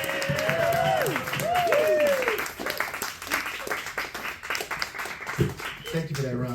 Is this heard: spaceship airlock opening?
no